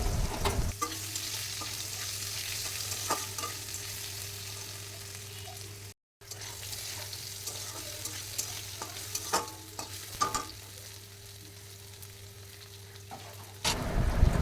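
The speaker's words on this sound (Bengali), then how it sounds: "এবার আলুগুলো আমি আস্তে আস্তে ছেড়ে দেবো। আলুগুলো খুব ভালোভাবে লাল লাল করে ভেজে নেব।" Potatoes sizzle steadily in hot mustard oil, a continuous close frying hiss with occasional stirring clicks, briefly cutting out midway before resuming.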